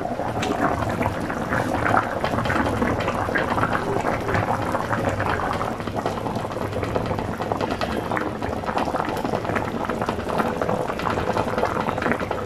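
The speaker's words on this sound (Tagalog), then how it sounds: "pakulon lang natin hanggang maluto yung ating isda" Salmon sinigang broth with miso at a steady boil in a pot, a continuous dense bubbling and simmering hiss that holds evenly throughout with no talk over it.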